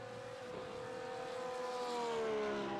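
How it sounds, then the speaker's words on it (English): A Porsche race car engine in iRacing whines at high pitch, shifting down and then climbing steadily as it accelerates, heard alone at a moderate distance. "the Porsche engine sound never gets old"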